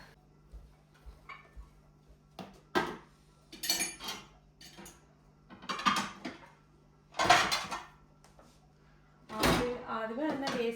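Dirty pots, plates and cutlery clatter and clink in a home kitchen as they are stacked for washing, with scattered close knocks and scrapes separated by brief quiet pauses.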